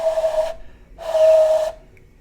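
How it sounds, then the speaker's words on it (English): Two breathy hand-whistle attempts with a broken seal, each a half-second airy hiss with a faint underlying tone, separated by a short silence. "everything else can be exactly right, but the whistle won't work because the seal's broken"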